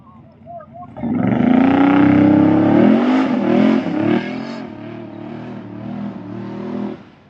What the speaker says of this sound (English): this guy's probably gonna do a burnout too